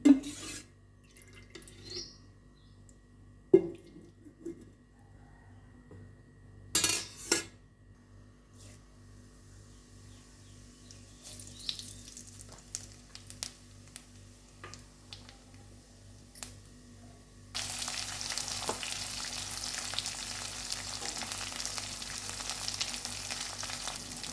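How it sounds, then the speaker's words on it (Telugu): Oil heating in a kitchen pan while making mutton curry, with faint ticks and clatter early on, then a steady, moderately loud sizzle that takes over for the final stretch. No voices. "ఆయిల్ వేసుకుంటున్నాను"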